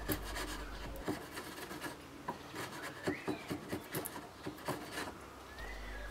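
Chisel paring diagonally across the grain of a piece of wood, a series of short dry scraping and slicing strokes with small taps, close and fairly quiet, with no talk.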